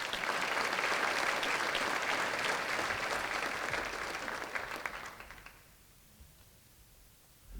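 Audience applause at a 2018 sports hall of fame induction ceremony, a broad wash of clapping from a large crowd that holds steady, then thins and fades out toward the end, leaving near quiet.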